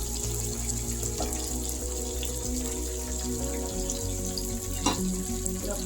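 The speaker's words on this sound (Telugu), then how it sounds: "ఇది బాగా బ్రౌన్ కలర్ ఫ్రై చేస్తాం" Beans and carrots fry in a hot pan for a meal maker pulao, giving a steady, close sizzle with a few brief clinks and stirring sounds.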